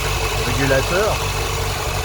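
Ford Fiesta MK4 engine idling, with an unstable idle, giving a low, steady mechanical hum with slight wavering, heard under a man's speech.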